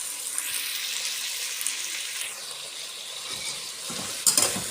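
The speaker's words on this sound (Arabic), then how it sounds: "هنفضل نقلب فيها لحد ما اللون يغير." Meat cooks in a pot on the stove while being stirred until its colour changes; a continuous sizzle and bubbling hiss with scraping of the spoon and a few clinks near the end.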